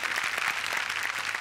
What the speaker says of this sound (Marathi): रुचा आपटेसाठी जोरदार टाळ्या